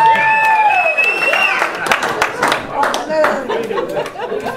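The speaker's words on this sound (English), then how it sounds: "Let's hear it by applause" A comedy audience at a VFW hall in Ventura, California, gives scattered applause and cheers, with crowd chatter, laughter and a raised voice mixed through the clapping.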